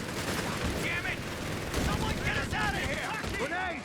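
MG4 machine gun fire in Company of Heroes 3 rattles in steady bursts amid dense battlefield noise, with chirping unit sounds layered over a continuous wash of combat.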